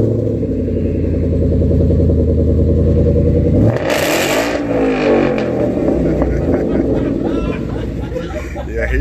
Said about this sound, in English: Let y'all hear what it sound like in a cold start.